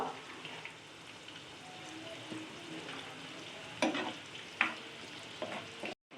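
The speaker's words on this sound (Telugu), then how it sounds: "ఆయిల్ వేడెక్కింది, తాలింపు గింజలు వేసుకుందాం" Garlic, dried red chilies, curry leaves and asafoetida crackle and sizzle in hot oil, a steady frying hiss punctuated by a few sharper pops and scrapes, ending abruptly.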